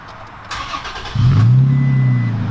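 A 2018 Toyota Tacoma pickup engine cranks and fires up, settling into a deep, loud, rumbling idle through a throaty aftermarket MBRP exhaust.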